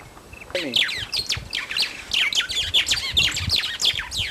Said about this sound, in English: It's a pretty bird